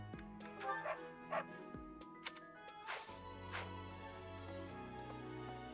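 Small dog in the Fire Emblem: Three Houses video game giving a few short yips and soft barks, faint and scattered, over steady game music and ambience.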